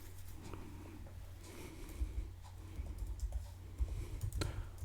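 Fast, uneven clicking of a computer keyboard while code is typed, heard close over a low steady hum, with bursts of keystrokes.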